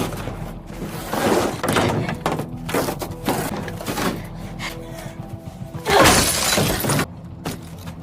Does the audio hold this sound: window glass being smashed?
yes